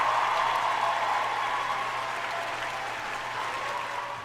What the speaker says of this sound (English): Give him a round of applause, though.